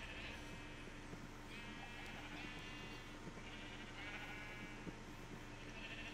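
Sheep in the video game Minecraft bleat repeatedly at a moderate distance, several drawn-out calls spaced a second or so apart over a steady ambient game background.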